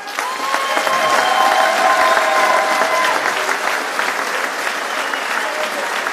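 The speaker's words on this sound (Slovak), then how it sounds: "tak pre nich obrovský aplauz" Loud, sustained applause from a crowd at a professional Slovak championship fight event, clapping thick and steady for the whole stretch, with faint cheering mixed in.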